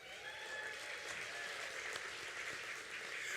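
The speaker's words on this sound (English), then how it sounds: "Please do applaud." Audience applause at the 2022 Moonlight Magic gala as dignitaries are introduced. A steady, full round of clapping runs throughout, with a faint crowd murmur beneath it.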